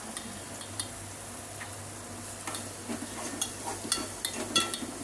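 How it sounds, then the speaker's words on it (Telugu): Food fries in a pan in a home kitchen, a faint, steady sizzle with scattered soft ticks and scrapes of stirring growing busier toward the end, with no talk over it. "ఈ లోపల మంచిగా ఫ్రై అవుతుంది అన్నమాట"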